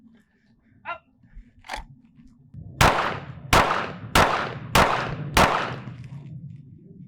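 One-handed handgun shooting on a range, with five sharp, loud shots in an even rhythm after a few softer clicks and a short spoken command.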